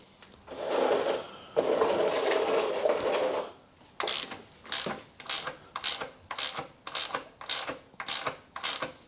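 An oil drain plug is undone on a 2008 VW Fox 1.2 petrol: a long grinding, creaking stretch of wrench work, then a steady run of about ten sharp, evenly spaced ratchet clicks close by, with no talking.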